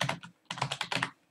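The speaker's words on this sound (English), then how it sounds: "you can hear my keyboard probably" Brisk computer keyboard typing during a Sims 4 session, two quick bursts of close clicky keystrokes separated by a short pause, loud and alone with no talking.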